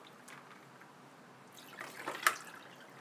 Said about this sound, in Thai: เทใส่แก้ว